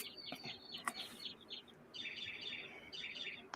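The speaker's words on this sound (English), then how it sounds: "I hear some bird chirping." Birds chirp in a backyard, with quick high tweets and trilling calls repeating in bursts. They sound moderately near but fairly quiet, and a faint clucking may be mixed in.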